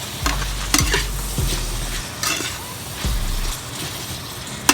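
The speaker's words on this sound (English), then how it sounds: "Stir it up." Shrimp stirred in a frying pan for shrimp Alfredo: a spatula clanks and scrapes repeatedly against the pan over a close, continuous sizzle, with a low hum underneath and no talking.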